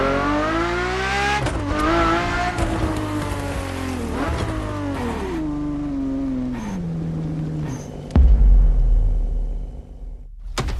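A Ferrari supercar driven in The Crew Motorfest, its engine revving through rising and falling gear sweeps, then a sudden deep rumble and low thud before easing off; loud and close, no talk.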